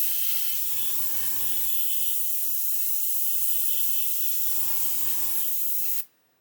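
An airbrush sprays paint for pre-shading a scale model, a continuous close hiss lasting several seconds with a compressor thumping twice underneath before the spray cuts off abruptly.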